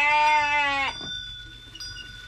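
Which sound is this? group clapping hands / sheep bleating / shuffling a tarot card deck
sheep bleating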